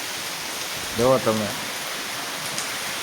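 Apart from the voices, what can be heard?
heavy rain pouring in a village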